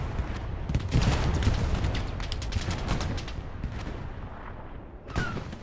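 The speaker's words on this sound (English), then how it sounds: "calling in that artillery strike on it to make sure there's no enemies" In Hell Let Loose around Carentan train station, a crackle of rapid gunfire and distant blasts from an artillery strike rolls on with sharp, repeated reports and fades toward the end before one last burst.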